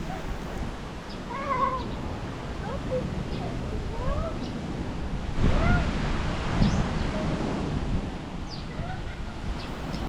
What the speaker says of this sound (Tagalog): Talaga na naman napakalakas po ng hangin.